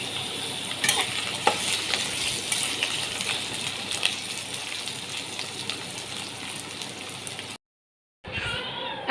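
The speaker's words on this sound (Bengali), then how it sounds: "এবার আলুগুলো ভেজে নেব।" Potatoes fry in hot oil in a wok with a loud, steady sizzle and occasional sharp pops and stirring clatter. The sound cuts to a brief silence, then resumes faintly.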